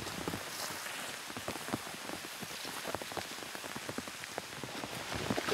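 Steady rain patters densely on a surface in a chevreuil habitat, a continuous crackle of close drops at low level with no voices.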